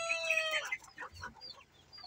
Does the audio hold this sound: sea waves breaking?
no